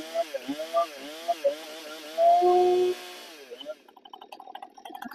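A small engine pulled over with the choke out sputters and catches, giving a buzzy, uneven whine that rises briefly before dying back to scattered clicks and rattles; nearby and moderately loud.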